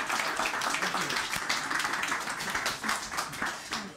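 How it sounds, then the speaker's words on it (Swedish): An audience at a bar event gives a round of applause, steady clapping of moderate loudness lasting the whole moment, with scattered voices underneath. "En applåd för det."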